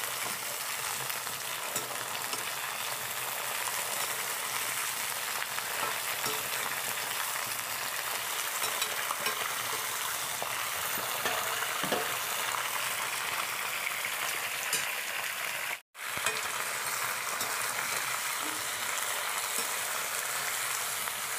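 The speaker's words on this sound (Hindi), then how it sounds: "ये गोभी, अब इसको हम भून लेंगे अच्छी तरह से।" Cauliflower stir-frying in a pan, a long steady crackling sizzle at moderate level with scattered stirring clicks and one brief dropout near the end, no speech.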